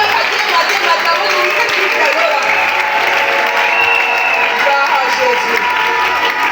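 A church congregation applauds steadily during a preaching session, dense continuous clapping heard close throughout, with crowd voices and cheering mixed in.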